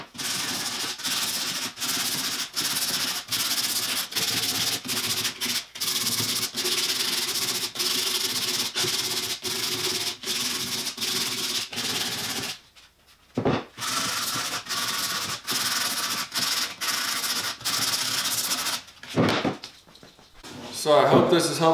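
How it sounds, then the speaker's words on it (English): Hand sandpaper rubbing along the edges of a stained-grade red oak face frame for an entry locker, quick repeated scratchy back-and-forth strokes with a brief pause, close and loud. "Now what I like to do is just hit it real quickly with some hand sandpaper"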